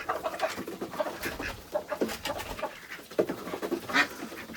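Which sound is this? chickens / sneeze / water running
chickens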